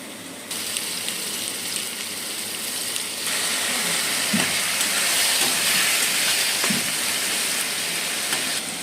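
Potatoes fry lightly in a pan while a Bengali fish curry is cooked. The oil gives a steady, close sizzling hiss that swells a little partway through, broken by a few soft clinks of stirring.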